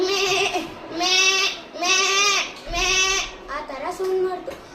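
A man mimics a female goat bleating, giving four drawn-out, wavering bleats in a row, close and loud.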